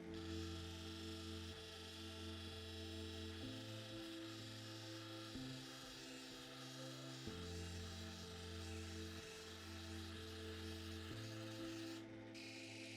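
A rough opal is ground on a 400 grit wheel, giving a steady motor hum with a continuous gritty rubbing rasp that shifts slightly in pitch as the stone is pressed and moved.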